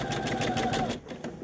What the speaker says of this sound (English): When I turn on my reverse button, the machine's going to go backwards.